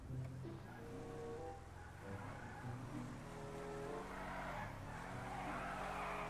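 A rear-wheel-drive Granger 3600LX SUV, a Chevrolet-style vehicle in GTA 5 Online, skids with its tires squealing over a steady engine roar. The whine stays faint and continuous throughout.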